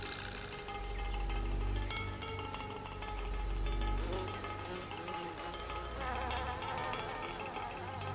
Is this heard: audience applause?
no